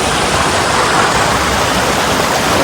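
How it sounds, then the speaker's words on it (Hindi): A river pours loudly beneath a bridge on the Narmada parikrama route, a steady, dense, close roar of rushing water with no break and no voices. "बहुत ही आवाज़ के साथ ये बह रहा है पानी"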